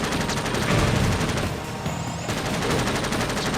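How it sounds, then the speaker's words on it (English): Steady automatic gunfire in the video game Jak X: Combat Racing, continuous rattling bursts over engine and game noise, with a brief dip in the middle before the firing resumes. "I'm taking fire!"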